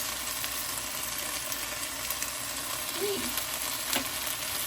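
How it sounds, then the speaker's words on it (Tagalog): Eggs frying in a pan with sliced bitter gourd (ampalaya), giving a steady, dense sizzle and crackle that runs throughout, fairly close and unbroken by talk. "Ilagay na natin ang eggs. Maglalagay ako ng 3 kasi maliliit yung mga itlog."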